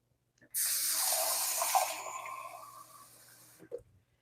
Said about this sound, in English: I'm just going to get a bit of water in a cup for my hands.